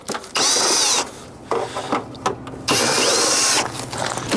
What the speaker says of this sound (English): So you got your long nose Phillips on a drill.